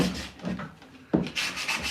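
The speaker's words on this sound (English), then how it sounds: "It's getting real good and chippy with this hand sanding." Hand sanding on chippy old painted wood from salvage, a rough rubbing scrape in uneven strokes, close and fairly loud, with no talking.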